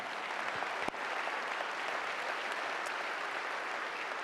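Applause at the 2015 Oregon Sports Awards for the Newburgh varsity cheer team, a sustained wash of crowd clapping heard from a distance, even and continuous with one sharp knock early on.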